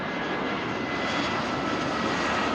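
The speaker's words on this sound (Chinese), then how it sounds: "这第一架是成都航空的空客 A320" A Chengdu Airlines Airbus A320 airliner comes in to land at a busy airport in the evening, its engines giving a steady, loud, unbroken roar from start to finish with no voices.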